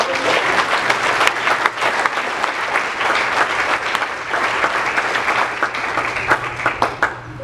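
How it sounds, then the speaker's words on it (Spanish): An indoor church congregation claps together in a sustained round of applause, the crowd's sharp hand claps rising and falling with a faint background hum, no talking heard. "Denle un aplauso."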